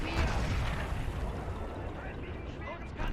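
Artillery fire in the WWII strategy game Men of War: Assault Squad, on the outskirts of Stalingrad in 1942: a dense, continuous rumble of distant booms and bursts under a steady battlefield din.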